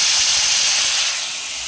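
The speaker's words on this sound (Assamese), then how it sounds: "পিঁয়াজকেইটা উঠাই দি কণ বিলাহীকেইটা দিছোঁ, কণ বিলাহীকেইটা ভাজি দালিখিনি পেলাই দিম" Small tomatoes frying in hot oil, a loud continuous close sizzle that eases slightly toward the end, no talk.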